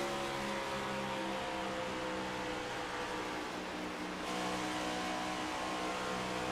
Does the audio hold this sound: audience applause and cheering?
no